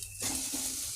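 Boiled potatoes tipped into a hot pan of oil, setting off a sudden steady sizzle of frying that fills the rest of the moment, close by.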